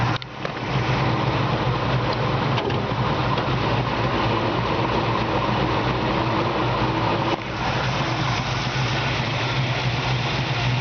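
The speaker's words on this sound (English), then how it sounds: "It's got a very aggressive exhaust" A 1970 Camaro 454 big-block V8 idles loud and close in a deep, steady rumble through an aggressive exhaust, with a slight lumpy pulse and a brief dip near the end.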